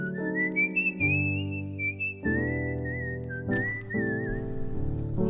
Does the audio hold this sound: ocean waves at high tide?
no